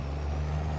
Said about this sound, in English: Is that like the OG Volvo truck we've had forever?